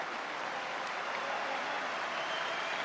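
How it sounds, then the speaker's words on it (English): Faint, steady applause from a distant crowd at a rugby league match, a soft continuous patter of clapping with no clear voices. "Gareth Carvell comes off the field to a deserved round of applause."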